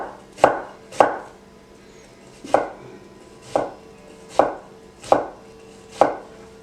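A knife chops an onion on a cutting board, held in a claw grip with the root end still intact. Seven crisp, close chops land at uneven intervals, each with a short thud, and no one speaks.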